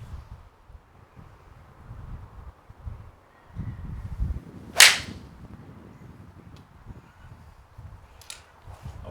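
A single sharp crack of a Titleist 718 T-MB 2 iron striking a golf ball outdoors, with wind rumbling around it before and after.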